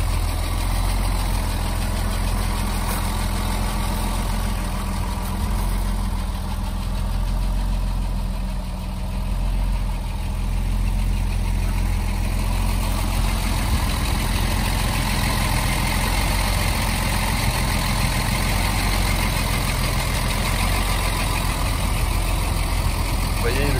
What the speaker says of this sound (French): Voilà, vous voyez, la voiture tourne très bien.